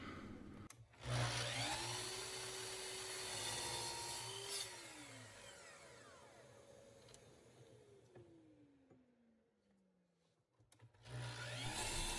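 A power tool cuts through wooden legs for DIY bar and shop stools in a workshop, a steady whining, rasping cut lasting most of the clip with pitch that sweeps and falls, then dies away before a brief restart.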